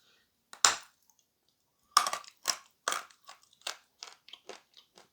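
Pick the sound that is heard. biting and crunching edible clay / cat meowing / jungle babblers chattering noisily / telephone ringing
biting and crunching edible clay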